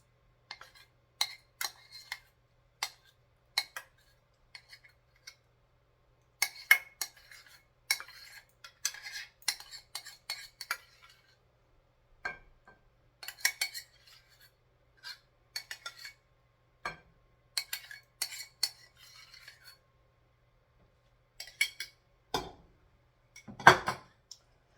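A utensil stirs a tuna and noodle mixture in a casserole dish, giving irregular clinks and scrapes in bursts, with quiet gaps between them and no talking.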